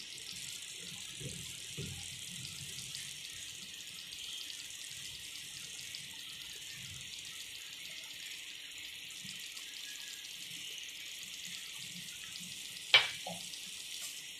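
A potato and egg omelette with coriander and green chilli cooks in a pan, giving a soft, steady sizzle throughout, with faint clinks and one sharp knock near the end.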